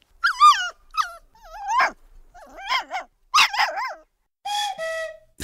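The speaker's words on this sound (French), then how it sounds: "C'est le chiot, le bébé chien." A puppy yips and barks in short high-pitched bursts, mixed with whiny whimpers, close and clear with brief silences between.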